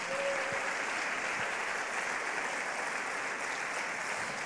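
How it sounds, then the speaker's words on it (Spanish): A church congregation claps in sustained, dense applause that holds at a steady level throughout, with a brief faint voice at the start. "Vamos a darle un fuerte aplauso al Señor."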